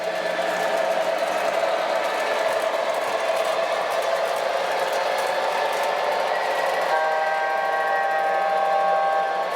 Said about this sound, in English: There's the second whistle.